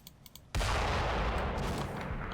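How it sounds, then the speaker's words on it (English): Mortar shells striking a church tower in Combat Mission Final Blitzkrieg at Stavelot: a loud, sudden blast after brief quiet, then a sustained roaring rumble of explosions and debris that stays heavy to the end. "So yeah, he's mortaring the church a bit."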